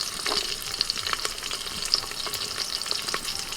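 Curry leaves, onion and garlic frying in hot oil in a pan for South Indian rasam, a continuous close crackling sizzle with scattered sharp spits and pops, no voices.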